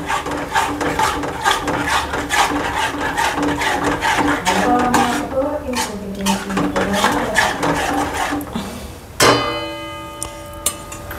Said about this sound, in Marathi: सगळं हलवून घ्यायचं आहे.